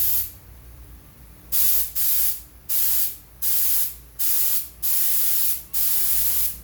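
Seven short bursts of an HVLP paint spray gun hiss in a regular rhythm, each about half a second long, loud and close, separated by quiet gaps.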